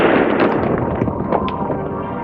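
Dense, rapid crackle of gunfire right after a shouted order to shoot, many overlapping pops and bursts for a couple of seconds in a loud, chaotic scene.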